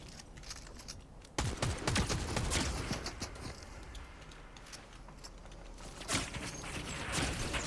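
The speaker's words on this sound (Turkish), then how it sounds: "Abi bütün map niye bana sıkıyor abi?" Many players fire guns at once in Fortnite, a fairly faint, crackling fusillade of overlapping shots that swells after a quieter opening and continues with scattered louder bursts.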